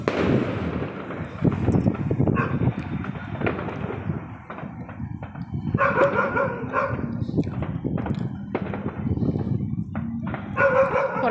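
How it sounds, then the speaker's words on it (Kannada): Firecrackers set off outside on New Year's night give sharp scattered bangs and crackling bursts at a distance, mixed with a barking dog and people talking nearby. "ಹೊರಗಡೆ ನೋಡಿ ಪಟಾಕಿ ಹೊಡಿತಾನೇ ಇದ್ದಾರೆ."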